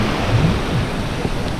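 Rolling sea waves break on a shingle shore while out fishing after stormy weather, a steady wash of surf with low wind buffeting the microphone, fairly loud and near.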